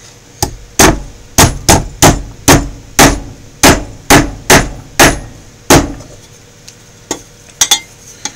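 A hammer strikes metal in a steady run of sharp, loud, ringing blows, with a short pause and then a few quicker strikes at the end.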